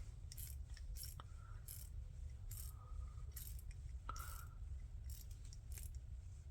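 Leatherman ratchet turned with a pry tool fitted in its socket, giving faint, repeated clicking pawl ticks and light metallic scrapes at an uneven pace over a low steady background hum.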